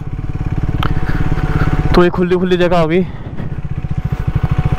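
A Triumph Speed 400 motorcycle rumbles steadily through an off-road ride, its engine pulsing loud and close beneath someone talking throughout.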